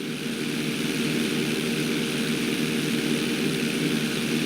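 A propeller airplane's engine drones loud and constant in GTA V flight school, a steady, even roar as the plane takes off from the runway, with no voices over it.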